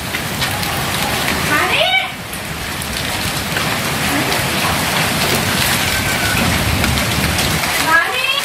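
Heavy unseasonal hailstorm rain pours down in a dense, loud, steady wash of drops on surfaces, with brief voices over it.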